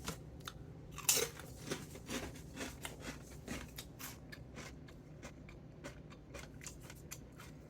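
Crisp, close crunching and chewing of Ketchup and Spicy Mustard Doritos chips, with a sharp bite early on followed by a steady run of smaller crunches and quiet mouth sounds, no talking.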